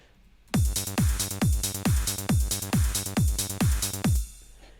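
A synthesized trance bass line pumps in a steady rhythm of repeated notes, each starting with a deep kick-like drop as an LFO tool ducks the first quarter note, alone and loud for about four seconds.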